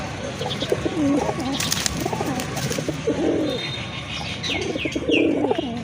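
A male pigeon coos repeatedly in low rolling phrases, close by, with faint chirps of other birds and background noise.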